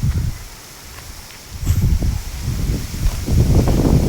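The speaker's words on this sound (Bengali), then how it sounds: "বাতাসের আবহাওয়া দেখছেন, গাছপালা কিভাবে লড়ে।" Evening wind on a stormy day before Eid sways trees and rustles their leaves in a steady, close rush of noise that swells louder in the second half, with no talking.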